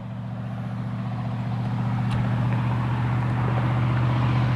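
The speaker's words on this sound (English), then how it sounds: "Some loud truck down there," A distant truck's heavy engine drones low and steady throughout below a lakeside trail near Silver Bay, growing slightly louder, with a faint outdoor hiss above it.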